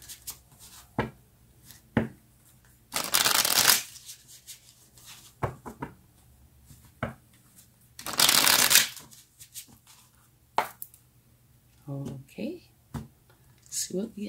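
Tarot cards shuffled by hand in bursts, two long riffling runs among scattered taps and slides of cards, close and clear, with no talking.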